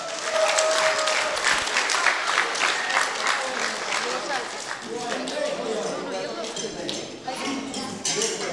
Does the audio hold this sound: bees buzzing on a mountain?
no